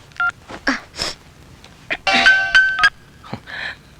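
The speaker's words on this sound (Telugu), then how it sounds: "ఇవాళ నేనే ఫోన్ చేసి నేను మినీని కాదని చెప్పిస్తాను." A telephone is dialed, giving a string of short, separate beeping keypad tones at an uneven pace. The tones are close and clear in an otherwise quiet room.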